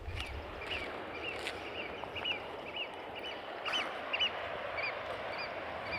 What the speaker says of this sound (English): There's so many cool seabirds in the cliffs. You can hear them all.